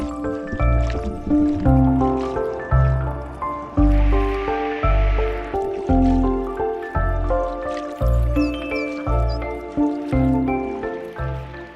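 Water trickling and dripping in the video game Naiad, a river exploration adventure, soft liquid squishes and drips repeating in a steady rhythm under layered, sustained game music.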